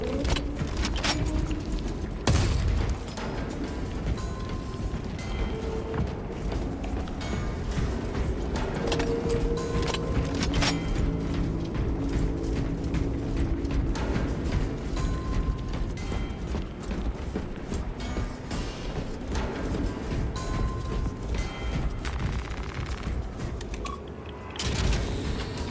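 A cargo elevator platform in a Warhammer video game moves with steady mechanical creaking and grinding, broken by scattered clanks and knocks. The noise runs continuously and fairly loud, with no talking.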